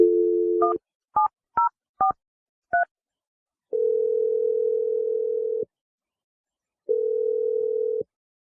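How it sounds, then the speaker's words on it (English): A landline phone being dialed: a dial tone, then five short touch-tone beeps in an irregular rhythm, followed by two long, steady ringback tones separated by silence, all clear and close with no talking. "I'm going to dial the phone number"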